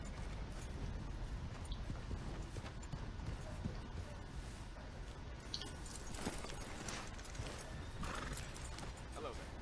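A horse in Red Dead Redemption 2 whinnies and snorts while its hooves clip-clop steadily through the scene, under a continuous layer of game ambience and a voice talking.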